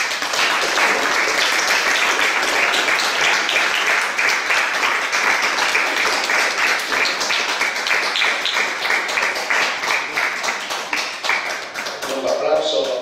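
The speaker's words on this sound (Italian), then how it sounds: "Un applauso alla conferma" Sustained audience applause at an academic conference on silence and the word, dense steady clapping filling the room at an even level, easing slightly near the end.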